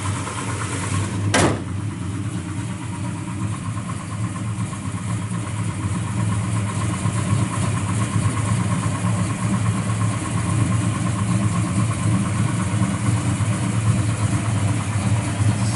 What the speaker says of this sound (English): Strong runner motor.